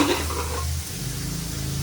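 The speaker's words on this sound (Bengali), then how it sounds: "দেখো হাতা দিয়ে নাড়ছি। আলু ভাজা বসিয়েছি" Fried potatoes stirred with a ladle in a pan, a soft continuous sizzle of frying with scraping stir strokes, close by and without talk.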